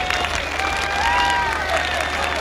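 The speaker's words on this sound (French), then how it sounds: "j'aimerais bien que vous les entendiez maintenant applaudir" A large crowd on a beach applauds steadily, a dense continuous patter of many hands heard from a distance with faint voices mixed in.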